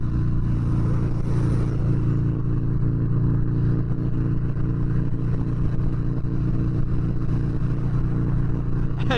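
A 2019 Harley-Davidson Fat Bob 114 motorcycle accelerating on a highway, a loud steady low engine drone with constant rumble and wind noise, close to the rider, heard without talk.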